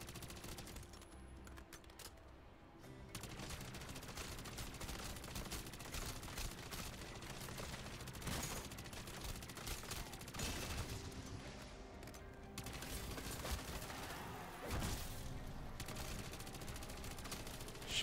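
Rapid automatic rifle fire in the video game MW3 Zombies, dense continuous bursts of shots with brief breaks, loud and sharp throughout.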